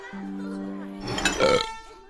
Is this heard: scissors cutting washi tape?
no